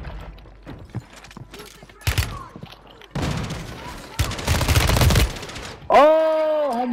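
Rapid bursts from an HRM9 submachine gun in a shooter game, crackling in separate volleys that build toward a sustained stretch of fire, followed by a tonal game effect at the end.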